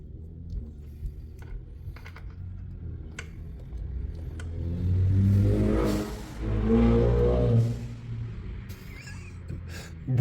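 A turbocharged car accelerates past nearby, its engine rising to a loud rushing roar mid-clip, then fading away over low background rumble.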